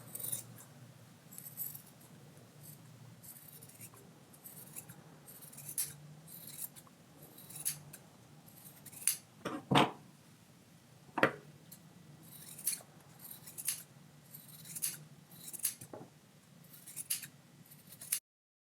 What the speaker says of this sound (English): go ahead and trim the rest of the strings